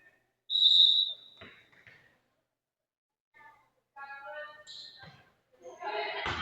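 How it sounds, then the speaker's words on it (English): A referee's short sharp whistle blast at a high school volleyball match, loud and clear near the start, followed by gym noise, a ball bounce and a commentator talking. "Getting ahead of the ref's whistle."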